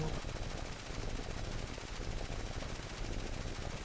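Machine gun fire in the War Thunder aerial combat game rattles as a dense, continuous burst of rapid shots throughout, loud and unbroken.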